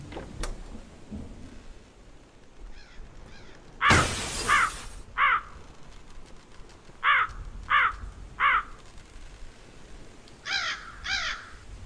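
A crow in the video game Endless Days caws in short bursts, two or three harsh calls at a time, repeated across the stretch, with one loud crash partway through and a low ambient drone underneath.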